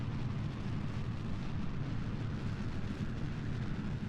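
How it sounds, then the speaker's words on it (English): Solid rocket boosters firing in Kerbal Space Program, a steady, dense low roar that holds even and unbroken from start to finish with no voices over it. "We're just firing the SRBs for the time being"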